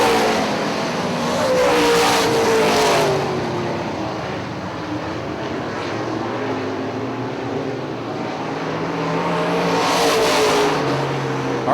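UMP late model race cars roaring around Hartford Speedway Park, a dense continuous engine drone with rising and falling passes as the field circulates close by.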